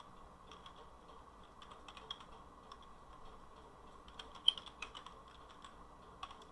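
Typing on a computer keyboard produces soft, steady keystrokes at a quiet level, with a handful of sharper, louder key clicks near the end and no voices.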